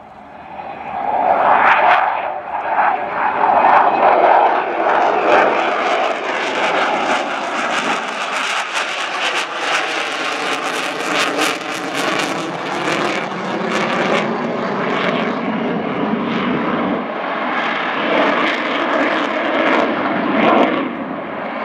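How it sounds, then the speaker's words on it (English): A Belgian Air Component F-16 fighter jet roars through a display pass at RIAT 2013, a loud sustained jet engine that swells and sweeps in pitch as it passes, heard from the crowd line. "And a bit of a final flourish before he turns onto what we call the downwind leg"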